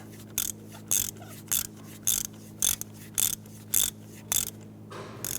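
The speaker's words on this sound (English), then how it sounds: "you can go ahead and run it down the rest of the way with your ratchet" A ratchet runs a spark plug down on a 1992-1996 Toyota Camry 2.2L four-cylinder engine, giving a series of about nine evenly spaced, sharp clicking strokes close by, with a quiet pause between each.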